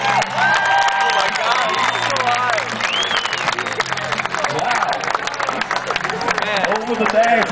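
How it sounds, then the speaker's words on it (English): Rodeo crowd in Green Bay, Wisconsin clapping and cheering for a 16-year-old cowboy, a dense, steady wash of applause and shouts running throughout, with an announcer's voice and music tones layered above. "he's going to get your applause,"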